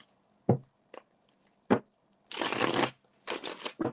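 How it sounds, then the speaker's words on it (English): Tarot cards being shuffled by hand, a few short riffles and taps followed by longer bursts of fluttering cards, close and fairly loud with no talking. "Just give me a second to shuffle the cards and then we'll be ready."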